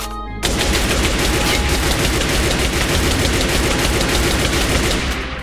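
A gun in the Minecraft video game fires in a loud, continuous rapid burst of shots that starts abruptly and runs for about five seconds.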